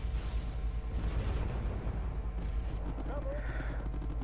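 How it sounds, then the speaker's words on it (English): Mortar fire in the strategy game Wargame: Red Dragon during a 10v10 jungle battle, a dense continuous rumble of booms and bursts with low-frequency weight throughout and no talk over it. "So Ristin is now going to mortar"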